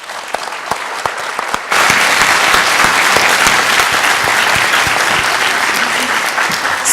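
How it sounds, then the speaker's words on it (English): Audience at a university speaker-series talk on human trafficking breaks into applause, scattered claps quickly swelling into loud, sustained clapping that carries on steadily to the end. "So you've already applauding."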